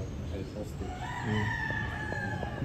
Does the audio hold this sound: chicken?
yes